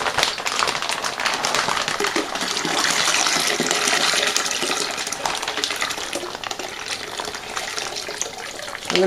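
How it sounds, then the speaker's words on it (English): Water rushes steadily into a plastic fermenter bag for a Nebbiolo wine kit, a close, continuous gushing pour that swells slightly in the middle and carries on with no talk. "fill this bag up, not all the way, but just a little bit with water"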